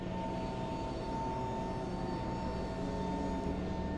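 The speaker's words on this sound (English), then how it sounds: "our landing flap setting is 35 and flaps 50, which we're about to show you right now" Wing flaps on a Lufthansa Cargo MD-11F extend to the flaps 35 and 50 landing settings, heard as a steady, loud cockpit drone with a constant mechanical whine and no talking.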